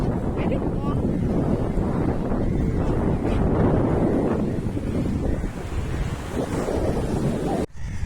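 Waves wash in at a beach while wind buffets the microphone, giving a continuous loud rumbling roar with a brief dip near the end.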